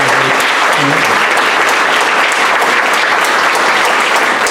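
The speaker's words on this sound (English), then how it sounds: "So I'd like to give a big round of applause to both our Transportation Director, Mr. Miller" A board of education meeting audience applauds in steady, dense clapping that fills the room, loud and continuous, with a brief voice heard at the very start.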